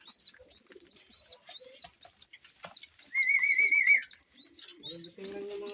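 Breeder pigeons in paired loft cages give repeated short calls with a longer warbling coo in the middle, close and fairly quiet, ending with a brief low hum.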